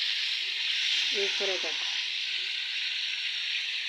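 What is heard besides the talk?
meat frying in a pan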